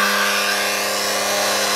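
A generator coil spinning under a 10 ohm load, a steady high electric whine with a strong constant hum beneath it, close and unbroken, without talking.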